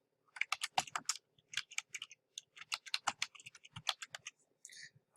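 Quick bursts of keystrokes clatter on a computer keyboard, close and crisp, in uneven clusters with short pauses between them.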